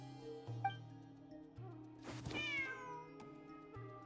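A cat meows loudly once in Genshin Impact in a rising, drawn-out call, with soft tonal hum and faint short sounds around it.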